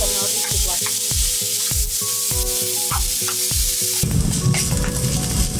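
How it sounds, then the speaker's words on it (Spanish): Onion, garlic and carrot refrito sautéing in a pan for spinach locro, a constant close sizzle with rhythmic scraping strokes of a spoon, then a denser burst of frying toward the end. "estamos terminando de refreír"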